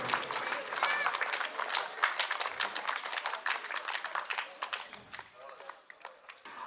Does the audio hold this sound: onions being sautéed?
no